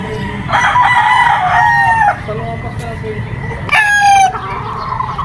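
A super brown red gamefowl rooster crows twice, close by, each long call rising and breaking off, over a steady farmyard hum with faint clucking.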